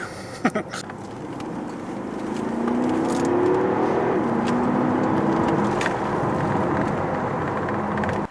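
A diesel Porsche Panamera 4S drives along, its steady engine drone and road rumble rising after a couple of seconds and holding loud, with a faint rising tone; a few short knocks come near the start.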